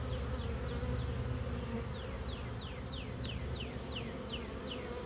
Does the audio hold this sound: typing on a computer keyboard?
no